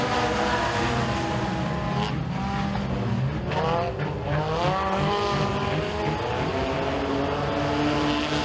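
Race cars on the dirt oval at Eriez Speedway roar together as the green flag starts a heat, a loud, continuous engine wail with rising and falling pitch and brief tire skids, filling the whole stretch.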